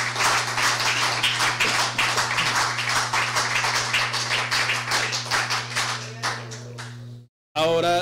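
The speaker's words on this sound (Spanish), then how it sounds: "Denle el aplauso al Señor Jesucristo." A church congregation applauds during a prayer service, with dense, steady clapping from many hands sustained for about seven seconds before it cuts off abruptly, against a constant low hum.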